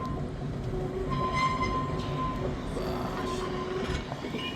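A tram rolling along its rails, heard from on board as a steady, continuous rumble with rhythmic clatter and faint metallic squeals, loud and unbroken with no talking.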